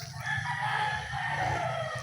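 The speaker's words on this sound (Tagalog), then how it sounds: "Mga manok dyan." A rooster crows in a spacious backyard where fish are kept, its drawn-out call ringing clearly for about two seconds over a low background hum.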